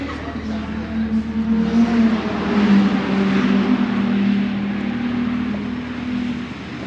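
A black BMW M140 tuned to about 580 bhp on pump gas idles and revs steadily nearby at a Knockhill track day, a low droning engine note held throughout with voices talking over it.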